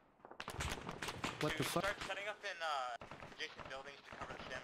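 Rapid video-game gunfire from a co-op military shooter match, bursts crackling close and loud underneath excited overlapping voices that talk throughout.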